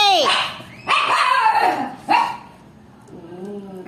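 A dog lets out three sharp barks with yelping, whiny tails, close by and loud, spaced about a second apart, followed by a softer whimper.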